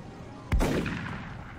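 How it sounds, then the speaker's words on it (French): A single sharp, booming sniper rifle shot in the video game XCOM Enemy Within, a sudden loud crack followed by a rumbling decay, heard alone. "Donc je vais pouvoir le tirer avec mon sniper normalement."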